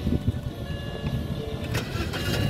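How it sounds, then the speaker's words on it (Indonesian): The 2.0-litre engine of a 2005 BMW 320i E90 automatic turns over and catches after a push of its start/stop button, followed by a steady mid-pitched running hum with some rattling in the cabin. "coba kita nyalakan mobil nah dia harus dimasukin ke dalam sini dulu nih nah dia sudah start stop uh, engine button jadi kita nyalain"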